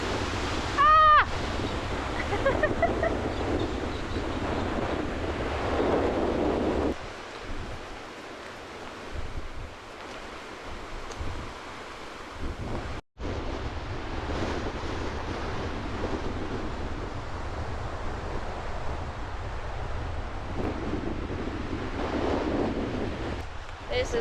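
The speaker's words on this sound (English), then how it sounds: "Wind's died down a bit now." Strong wind buffets the microphone on the Heysen Trail in hilly country near Smith Hill, a loud, rough roar that eases briefly in the middle before gusting hard again.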